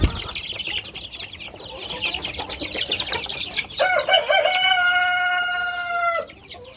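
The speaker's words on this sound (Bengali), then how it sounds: "এটা হচ্ছে আমার এই ফার্মি মুরগির বাচ্চা।" Fayoumi chicks and chickens on a farm: a busy mix of clucks and chick peeps builds up, then a loud, close rooster crow rings out for a couple of seconds and cuts off.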